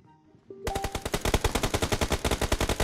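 Rapid automatic gunfire in a shooting video game, a steady rattling burst of evenly spaced loud shots that starts abruptly after a quiet moment and keeps going to the end.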